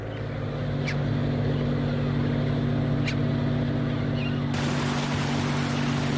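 A fishing boat motor runs with a steady low droning hum at sea, constant and close, with brief faint sounds over it and a wash of water noise near the end.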